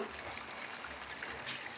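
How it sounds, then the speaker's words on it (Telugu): Water pours steadily into a village-style Telugu country chicken curry, a continuous soft trickle and gush of liquid with no break, close and moderately quiet. "మనకి పులుసుకి సరిపడా వాటర్ అయితే యాడ్ చేసుకుందాం."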